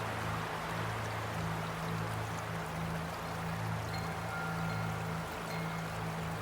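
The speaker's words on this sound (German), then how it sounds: "so dass sie immer, wenn sie daheim sind, das Rauschen vom Wasser hören können" A stream rushes in a soft, steady wash of water noise that stays even and unbroken, with a low hum underneath.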